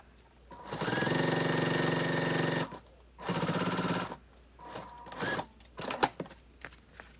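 A sewing machine basting binding onto a padded backpack strap at about a quarter inch: two long steady runs of rapid stitching, then shorter stop-start bursts with a few sharp clicks near the end.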